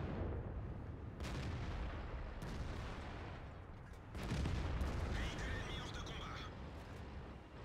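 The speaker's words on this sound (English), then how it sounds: "Oh, artillery." Artillery shells thunder in a tank video game, several heavy booms and blasts layered over a dense rumbling battle din, one louder impact partway through.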